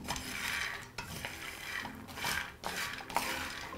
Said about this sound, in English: Mix it a bit until the pan cools.